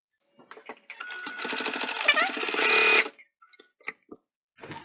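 A home sewing machine stitches a bum bag seam with a presser foot in a rapid, rattling run of about two seconds that speeds up toward its end, followed by a few light clicks and taps.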